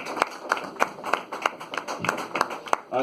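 Open mic poetry audience at a café giving slow, sparse claps, about ten distinct hand claps in a loose rhythm, fairly quiet with room ambience.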